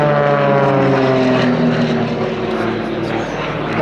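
Propeller engines of three aerobatic display aircraft drone loudly and continuously at an airshow at Little Gransden, a steady buzzing roar with shifting pitch as the planes manoeuvre close by.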